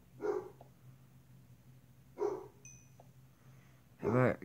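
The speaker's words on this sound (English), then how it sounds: "I'm sorry if you hear my dog in the background" A dog barks in the background of an indoor room: three short, distant barks spaced a couple of seconds apart, fairly faint, with quiet between them.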